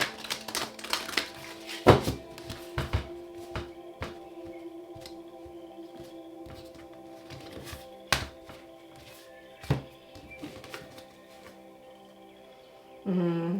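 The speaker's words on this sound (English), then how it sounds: "Last shuffle." Crisp papery clicks and rustles as cards are handled, in scattered bursts with a louder riffle near the end; no talking.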